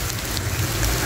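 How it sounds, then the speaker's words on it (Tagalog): Heavy rain pouring onto a makeshift shanty hut on a mountain, a dense, continuous hiss with a low rumble, loud and steady throughout the short stretch. "kaso lumakas na yung ulan"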